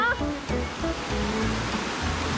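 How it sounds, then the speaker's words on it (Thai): A shallow forest stream flows over rocks in a steady, close rushing wash, with children and adults chattering and calling over it. "มันก็เป็นลำธาร"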